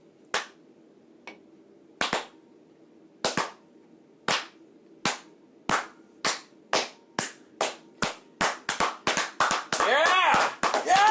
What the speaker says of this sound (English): This is a slow clap.